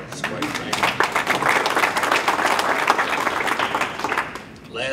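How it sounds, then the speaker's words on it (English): An audience at a speech by a school superintendent and a senator breaks into applause, a dense, steady round of clapping from many people lasting about four seconds before tapering off. "So you ought to give yourselves a round of applause, quite frankly."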